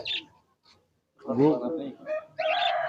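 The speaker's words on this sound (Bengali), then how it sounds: "ভাই এখানে ঘুঘু দেখছি ভাই" Doves and other birds at a Khulna pigeon market chirp in a few short calls, mixed in with nearby conversation.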